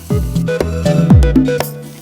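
Maida flour sizzling in a hot pan with browned onions, a steady frying hiss with a few short stirring scrapes and clatters, close and fairly loud.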